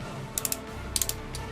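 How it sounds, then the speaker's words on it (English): Ratcheting elbow joints on a Transformers Prime Beast Hunters Optimus Prime figure click as the arm is bent, two quick bursts of three crisp clicks and one lone click, close and clear. "Yeah, he's got ratcheting elbows."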